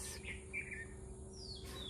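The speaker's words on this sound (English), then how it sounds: "Birds and bugs and frogs and people and dogs." Birds chirp outdoors in a warm, natural setting, several short tweets and a thin whistled call rising over a steady low background hum, fairly faint and a little distant.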